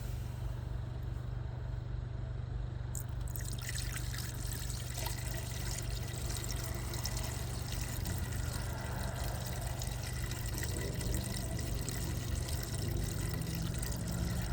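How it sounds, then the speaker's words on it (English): Windshield washer fluid pours without a funnel into the open reservoir of a Jaguar F-Pace, a steady, continuous splashing rush that lasts throughout under a low, constant background hum. "And now to add windshield fluid, you simply have to open the cap and add some fluid."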